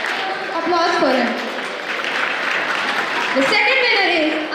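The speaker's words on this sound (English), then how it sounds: "applause for him." An audience at a Hindi-language festival award ceremony claps for a winner, the applause mixed with a loud announcer's voice speaking over it near the start and again at the end.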